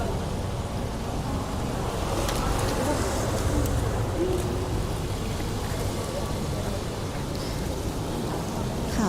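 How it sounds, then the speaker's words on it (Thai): Steady, dense rain pours down in a thunderstorm in Thailand, an unbroken close hiss with a low rumble underneath and faint voices in the background. "รอฝนก่อนค่ะ"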